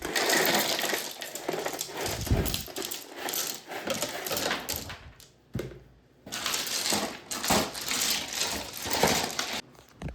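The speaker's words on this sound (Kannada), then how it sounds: "ಈಗ ಇನ್ನೊಂದು ಸ್ವಲ್ಪ ಕಲ್ಲು ಹಾಕೋತೀನಿ" Stones are set down one after another into a small built riverbed for a miniature forest, giving close, gritty crunching and clattering bursts, with a brief quiet pause midway.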